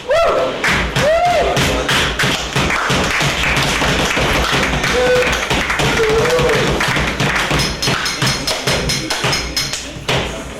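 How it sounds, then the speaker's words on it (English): A live audience gives a sustained, loud round of applause for the next act at a performance night, with rapid dense clapping for about ten seconds and a few brief cheers or voices mixed in. "Please give a nice warm round of applause for the next act, Mr. Paul H."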